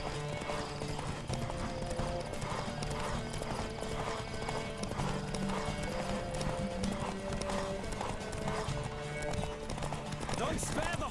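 A horse gallops in the video game Witcher 3, its hooves beating a fast, steady clip-clop rhythm throughout, with an occasional whinny and voices talking underneath.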